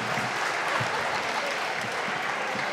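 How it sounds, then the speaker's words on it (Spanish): Steady, dense applause from many hands fills a legislative chamber session, heard at moderate distance as a continuous wash of clapping without a break. "No, no aplaudan nada, viejo. Dejen de aplaudir,"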